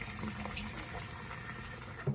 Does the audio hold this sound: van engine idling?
no